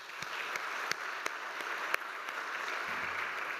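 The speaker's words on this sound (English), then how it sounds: "Can I please get another round of applause for Ben, Francis, Nick, Claire, and of course" A panel discussion audience at an evening medicine and technology event gives a steady round of dense applause, many hands clapping together with a few sharper claps standing out, continuous for the whole stretch.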